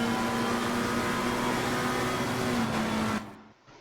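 A racing car engine in the video game Assetto Corsa Competizione drones at a steady high pitch, then cuts off abruptly near the end, leaving a faint hum.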